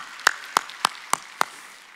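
Five sharp, evenly spaced claps sound in a quiet church room, crisp and close, with near silence between them.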